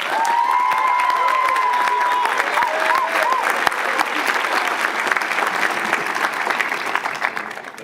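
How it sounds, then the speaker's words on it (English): A graduation audience at a university commencement claps steadily in a large hall, a dense, sustained wash of applause that stays loud throughout, with a brief high tonal whine early on. "well-deserved round of applause."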